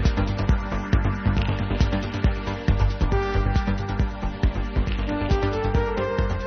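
Electronic space music: dense synthesizer layers over a steady rhythmic pulse of percussive beats, loud and continuous with no voices.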